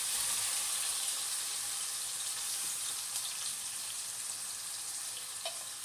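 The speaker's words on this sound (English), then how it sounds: "While it's melting the butter, we can add the mushrooms now." Mushrooms frying in melted butter in a pan, a steady soft sizzle and crackle throughout, faint and even with a few small pops, no talking.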